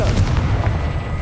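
In Hogwarts Legacy, the Confringo explosive spell goes off as a heavy booming burst, loud and close, with rumbling low impacts rolling through the short moment.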